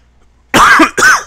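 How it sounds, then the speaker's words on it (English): Two harsh, close coughs in quick succession after a moment of silence, loud and abrupt, the second slightly shorter than the first. "Excuse me, sorry for the coughing"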